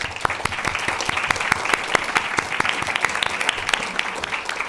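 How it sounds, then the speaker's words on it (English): An audience applauds panelists after an event, with dense steady clapping and distinct sharp individual claps standing out near the microphone throughout. "Can we give the panelists a round of applause?"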